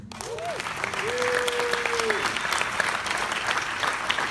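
A panel audience at a Planet of the Apes 50th anniversary event gives warm, sustained applause that swells and holds, with a voice briefly audible over it.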